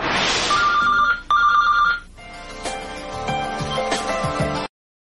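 A telephone rings as a call is placed from a home delivery office in New York City: two close electronic ring bursts, loud and clear, then fainter room sounds and clatter.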